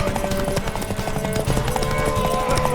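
Horse hooves clip-clopping in The Witcher 3 video game, a steady close trotting rhythm running through the whole stretch under game music and voices.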